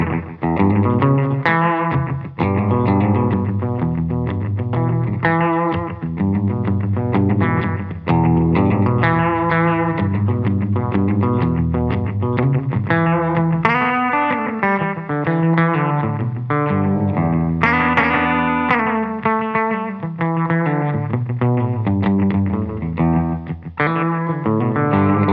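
Distorted electric guitar chords and riffs through a filter modulation pedal, with a subtle swirling modulation effect, played continuously and loudly with no voices.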